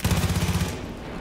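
Rapid automatic gunfire from a Far Cry 5 firefight, a loud, fast burst of evenly spaced shots lasting over half a second before cutting off into a fading tail.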